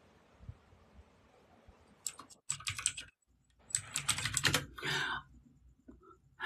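Bursts of computer keyboard typing, rapid clicky keystrokes in several clusters separated by short pauses, close and fairly loud against a quiet room background.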